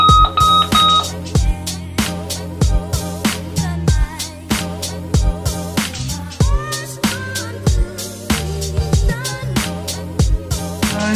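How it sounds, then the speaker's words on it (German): Loud electronic alarm clock sounding in a bedroom in the morning, rapid repeating bursts of bright beeping tones with shifting pitch, close and continuous, with no voices. "Krasseste Wecker."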